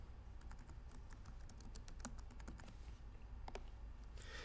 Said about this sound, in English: So now I can type in a new password